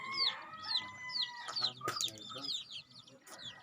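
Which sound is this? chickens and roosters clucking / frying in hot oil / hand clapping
chickens and roosters clucking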